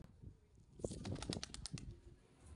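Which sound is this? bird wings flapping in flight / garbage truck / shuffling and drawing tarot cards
bird wings flapping in flight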